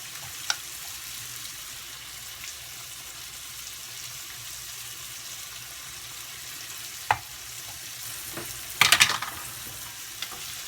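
Onions and bacon sizzling in a pan over high heat, a steady soft frying hiss throughout with a few sharp clacks of a utensil stirring and a brief louder scrape near the end.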